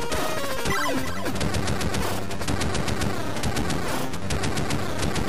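Rapid repeated shots from the player's gun in Operation C on the Game Boy, steady chiptune blips layered over game music that runs throughout at a constant level.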